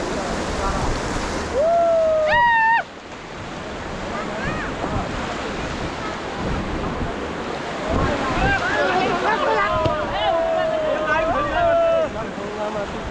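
River rapids during rafting in Jammu and Kashmir make a continuous rushing roar of churning water and wind buffeting the microphone, while excited voices shout and call out over it.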